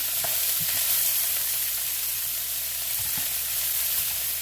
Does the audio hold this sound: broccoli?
yes